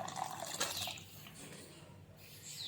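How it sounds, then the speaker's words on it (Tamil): Water poured into browned masala in a pan while making sundal masala gives a brief, soft splashing and hissing wash, quiet and close. "இப்போ கொஞ்சம் தண்ணி விடலாம்."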